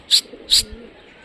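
Two short close bursts from a Rajshahi Giribaz pigeon, an old house bird, separated by a brief pause, with faint low murmuring behind.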